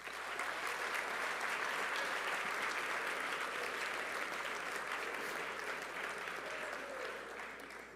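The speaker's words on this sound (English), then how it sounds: "So give yourselves a round of applause." Sustained applause fills a Plymouth State Panther awards ceremony, steady, dense clapping from a large audience that holds at full strength for about eight seconds before tapering slightly at the end.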